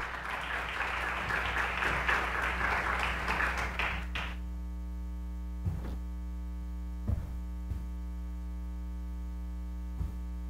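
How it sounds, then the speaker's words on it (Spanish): Audience applause welcoming a researcher to the lectern at an academic talk on health management and human rights, a dense burst of clapping for about four seconds that stops abruptly, leaving a steady mains hum with a few faint knocks. "Lo recibimos con un aplauso,"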